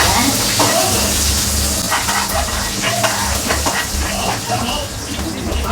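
Mustard seeds, dried red chillies and a green chilli crackle and sizzle in hot oil for a pongal tempering, a dense, close frying hiss with brief stirring and scraping sounds.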